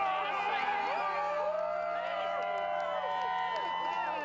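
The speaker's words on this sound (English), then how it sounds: "And then you heard the crowd." A large outdoor crowd at a ring of fire solar eclipse gives a steady, dense roar of cheering and whooping voices, loud and continuous throughout.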